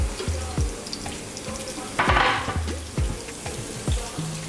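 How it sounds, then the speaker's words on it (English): Red and green onions frying in a pan for fried rice, with a steady sizzle and a few louder clatters and scrapes of stirring spread through the clip. "I'm gonna add the red onions and the green onions in."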